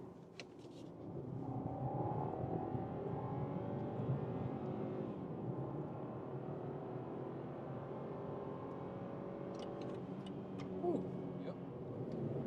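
A BMW 3 Series with rear-biased all-wheel drive accelerating hard in sport mode from 50 to 120 km/h, the engine note rising steadily through the gears with muffled in-cabin road roar and faint voices.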